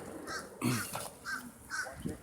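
Crows cawing outdoors near a power line, a series of hoarse caws repeating at roughly even intervals, moderately close, with faint voices in the background.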